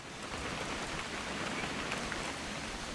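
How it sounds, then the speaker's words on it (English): Steady rain falls in the video game What Remains of Edith Finch, a dense, even patter on surfaces that continues without pause and is heard alone with no talk. "It's gonna rain the whole weekend, isn't it?"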